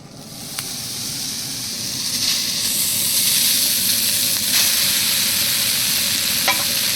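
Rice stir-fried in a pan with chopped ginger and garlic for vegetable fried rice gives a steady, close sizzling hiss with scraping stir strokes that grow slightly louder, and no one speaks.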